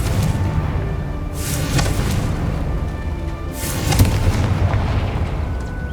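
Two fiery Confringo spell explosions from Hogwarts Legacy burst loud and close, each a sharp blast trailing into rumble, set against steady ambient game noise.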